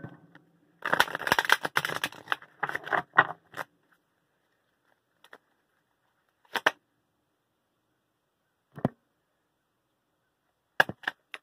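Oracle cards being shuffled: a dense burst of riffling, rustling card noise for about three seconds, then a few isolated soft slaps and taps of cards spaced out over the remaining quiet stretch, close and moderately loud.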